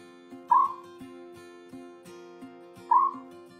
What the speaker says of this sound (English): Their calls also sound like a loud whoop, which can be heard throughout the day and night.